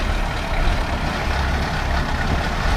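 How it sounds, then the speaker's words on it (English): A 1982 Winnebago Brave motorhome on a test ride, its engine and road noise making a loud, steady rumble heard from inside the cabin without a break. "So now we're going to take the motorhome for a little test ride."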